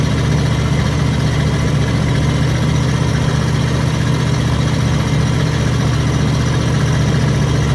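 Big Class C RV driving through Orlando traffic, its engine giving a loud, steady low rumble and hum that drones on without a break and fills the cab, with no talking.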